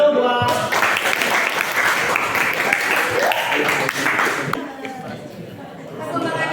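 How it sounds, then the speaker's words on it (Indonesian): A school class claps hands together after a chant, with loud group clapping and lively chatter that stops abruptly partway through, leaving quieter voices. "Tepuk tangan dulu buat"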